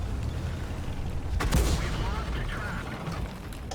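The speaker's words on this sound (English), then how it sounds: "Takes a hit from the artillery." Artillery fire striking a tank in World of Tanks, a sharp explosive impact rising out of a steady rumbling engine and battle noise backdrop.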